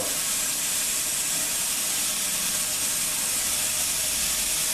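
Steady, hissing spray of water pouring into a fish tank against the glass, constant and fairly loud throughout.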